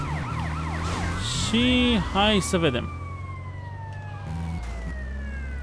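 Police sirens wail and chase the player in GTA: Vice City Stories, several overlapping rising and falling tones, loud and close at first before fading toward the end, with someone speaking briefly over them.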